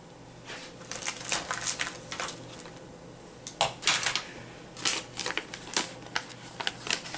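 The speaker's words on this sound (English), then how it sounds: "I'm going to cut this little corner off" Scissors snip a corner off a vellum envelope, making close, crisp cutting and crinkling sounds in short uneven bursts over a quiet background.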